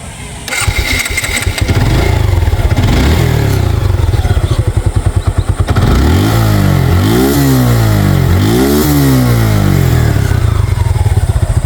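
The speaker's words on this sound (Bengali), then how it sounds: "এখন গাড়িটা স্টার্ট করে সাউন্ড কন্ডিশন দেখাবো" A Suzuki Gixxer motorcycle with a monotone single-cylinder engine is started, idling with a loud steady thump, then revved several times in rising and falling bursts, close to the microphone.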